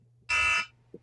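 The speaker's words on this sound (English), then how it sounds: "That was my alarm." An alarm clock goes off in a short, loud electronic buzzing beep lasting about a third of a second, alone over a low hum.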